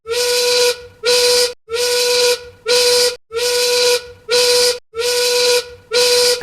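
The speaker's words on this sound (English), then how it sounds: "When you hear the whistle blow" A loud steam whistle blasts eight times in a steady rhythm, each hissing toot about half a second long with short gaps between.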